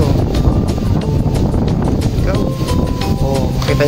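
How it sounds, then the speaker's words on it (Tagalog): Strong wind gusting at an outdoor viewpoint beside an art-sector cafe and gallery, a loud, continuous broadband roar buffeting the microphone throughout, with people talking over it. "Kita niyo mga kahuwan, lakas ng hangin."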